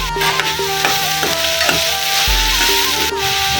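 Tomato and green chili fry with onion and garlic in a pan, giving off a steady loud sizzle with occasional stirring scrapes and no talk.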